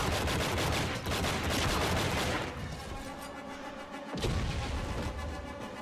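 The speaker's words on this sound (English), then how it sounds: "Stop with the freaking grenades!" Heavy gunfire and grenade blasts in the video game Enter the Matrix on a Windows PC, a continuous loud barrage that eases briefly before another sharp explosion and renewed firing.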